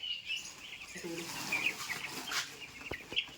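Broiler chickens cluck and squawk softly nearby in short, scattered calls over a faint background hum.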